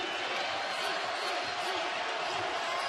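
Steady crowd buzz fills a college basketball arena at a Kentucky NCAA game, a dense continuous murmur of many voices with no distinct shouts.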